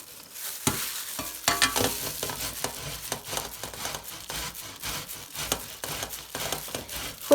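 Beetroot is grated by hand on a fine grater, a dense run of rhythmic rasping scrapes that continues steadily at close range, with no talk.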